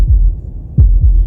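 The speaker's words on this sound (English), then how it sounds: "That was the sound of a heartbeat," A heartbeat sound effect in the video game Slay The Princess, low and close, throbbing in an uneven pair of beats over a steady low hum.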